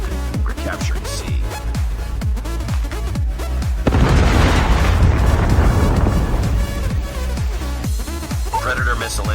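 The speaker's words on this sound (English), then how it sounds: "Hostile Predator missile inbound" A Predator missile explosion in a multiplayer first-person shooter video game erupts as a loud, sustained blast of roaring rumble and debris lasting a couple of seconds, between rhythmic low thumps of gunfire and game voice callouts.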